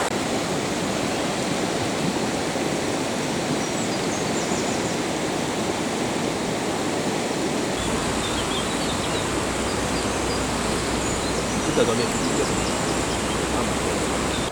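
A mountain stream rushes steadily beside a bivouac on the GR10 trail, a dense, close, unbroken wash of flowing water that fills the whole stretch without pause.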